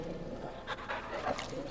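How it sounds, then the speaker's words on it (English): A dog in the video game Final Fantasy XVI pants and gives faint whimpering breaths, soft and steady over a background hum. "Bad dog!"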